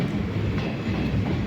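A passenger train runs steadily along its rails on a scenic route, a continuous low rumble and rattle heard from inside the carriage, even and unbroken with no voices.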